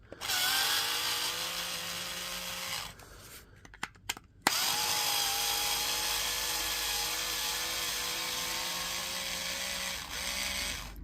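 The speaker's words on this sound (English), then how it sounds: "We'll have to take the screws out of this one because there's actually screws in this one." A power driver backing screws out of a Milwaukee M18 battery pack, two long whining runs close by with a brief pause of small clicks and rattles between them.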